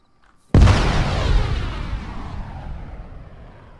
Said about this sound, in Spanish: Bendita explosión